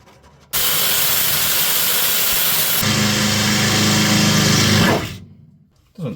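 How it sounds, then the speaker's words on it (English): Power drill boring through the steel bodywork of a classic Mini during a restoration, a loud steady whine and hiss held for about four seconds, shifting pitch midway, then winding down. "Doesn't take much, does it, to drill through a mini?"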